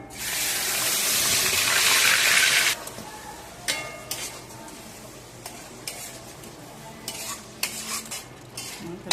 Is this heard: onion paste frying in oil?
yes